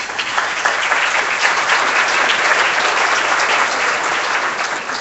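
Audience at a Senator Ted Cruz dinner in Tyler, Texas applauds event sponsors, a dense, steady wash of many hands clapping that holds at an even level throughout.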